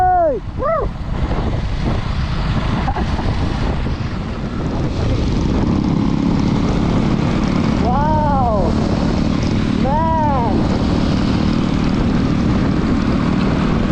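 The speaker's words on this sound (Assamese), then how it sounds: "এতিয়া চবেই বাইকৰ ষ্টাৰ্ট দিলে" A group of motorbikes starts off together for a ride, with a steady loud engine drone and revving passes over it, plus a few short voices.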